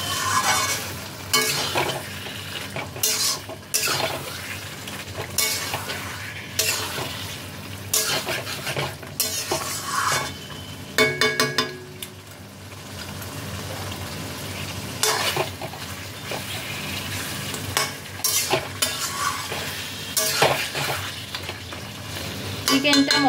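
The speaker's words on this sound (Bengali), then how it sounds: "এবার আমি দিয়ে দিচ্ছি ম্যারিনেট করে রাখা চিকেন। চিকেনটাকে মশলার সাথে ভালো করে মিশিয়ে নিতে হবে।" Marinated chicken being stirred into a cooked spice paste in a pan for chicken do pyaza, with a sizzling fry broken by frequent scraping and clanking of a spatula against the pan, close and busy with brief pauses.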